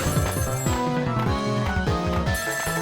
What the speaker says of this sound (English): That telephone call!